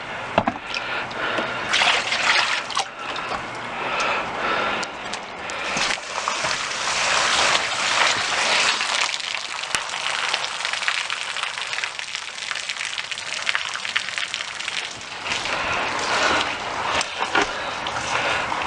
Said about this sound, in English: What we're doing here is water testing a deck.